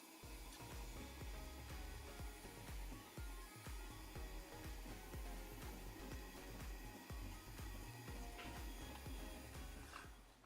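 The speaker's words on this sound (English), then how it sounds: "So here we are milling the top side." A milling machine cuts the top side of a metal part, giving a continuous loud whirring hum with a steady run of repetitive rasping cutting pulses, alone without talk.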